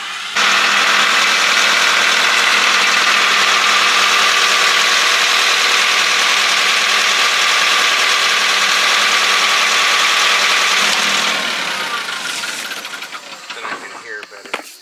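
An engine-powered leaf blower blasts stump grinding shavings off the ground, a loud, close, steady roaring whoosh that holds for about eleven seconds before winding down and sputtering to a stop.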